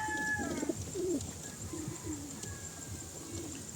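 Racing pigeons, including a young bird, coo softly in a loft, low rolling calls repeating over steady background noise with a few faint chirps.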